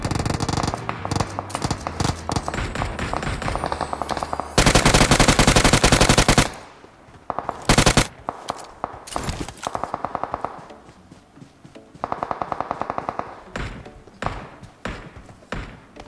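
Machine gun fire in a video game, long rapid bursts of loud automatic shots, several sustained volleys separated by short pauses and quieter single taps, with faint echo.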